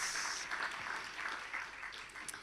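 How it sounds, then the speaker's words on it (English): A round of applause at the Kruger Centenary gala dinner, many hands clapping steadily in a banquet hall for a moderate two and a half seconds, with no voices over it. "A round of applause, please."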